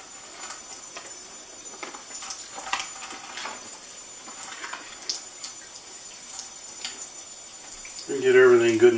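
Water runs and splashes over an aircraft canopy on a Corsair, a faint, irregular trickle and spatter close by, with a voice speaking at the end.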